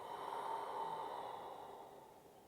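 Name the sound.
Ujjayi breathing in and out through the nose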